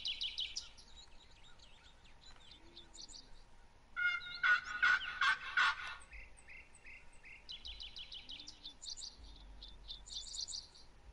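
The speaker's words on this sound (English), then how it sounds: "like sound of turkeys in front of me" Wild turkeys gobbling nearby, heard in repeated rattling calls with a loud gobble burst in the middle. Softer chirps and clucks come between the calls, and there is no talk.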